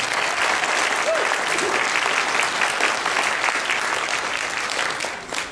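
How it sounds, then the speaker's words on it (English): Audience applause at a press club holiday show, steady dense clapping that holds for several seconds before tapering slightly at the end. "give them a round of applause"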